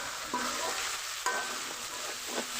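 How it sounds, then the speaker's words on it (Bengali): Chopped onion and chicken frying together in a pan for an egg roll filling, giving a steady, close hiss of hot oil with a few soft scrapes and stirs, no voices. "পেঁয়াজ দেওয়ার পরে আবারও 2 মিনিটের মতো ভেজে নিলে হয়ে যাবে।"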